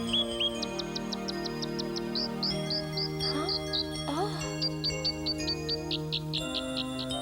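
Birds in an animated fairy tale chirp in quick, bright runs of tweets and short rising calls, clear and close, over soft sustained background music.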